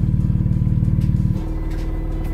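Turbocharged Honda S2000 with a Remus exhaust, valves closed, idling with a fast loud pulsing burble that drops to a smoother, quieter low hum partway through.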